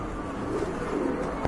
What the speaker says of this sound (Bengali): এখানে কিন্তু এক জোড়া হলি কুপার কবুতর রয়েছে, দেখতে পাচ্ছেন